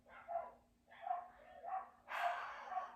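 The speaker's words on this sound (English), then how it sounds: "that's my dog barking." A dog gives several muffled barks in an uneven series, faint and somewhat distant, with quiet gaps between them.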